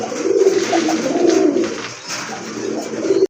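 Pigeons kept in a breeder's collection coo close by, with soft, low, rolling coos repeating almost continuously and no speech.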